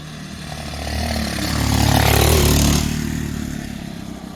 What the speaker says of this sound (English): I'll show you a couple of vids now of the bike going.